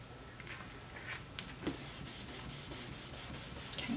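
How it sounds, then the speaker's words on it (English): Paper rubbed down onto a chipboard piece for a handmade mini album: soft, steady rubbing strokes, faint at first and then a run of repeated close strokes, with no talking. "just give it a little bit of rub"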